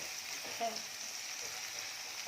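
Tomatoes frying in a kadai over a medium flame while kadai chicken is cooked, giving a soft, steady sizzle with a brief stir or clink partway through.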